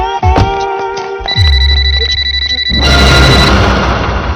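A telephone bell rings loudly and insistently in a comedy scene, a repeated metallic trill with harmonic tones that cuts off near the end as a noisy burst takes over.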